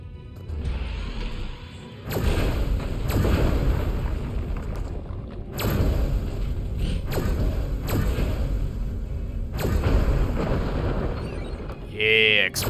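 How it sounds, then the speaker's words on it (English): Repeated heavy explosive booms and rumbling crashes in the video game Destroy All Humans!, loud and close, bursting every few seconds with a sharp electronic blip near the end. "Explosions."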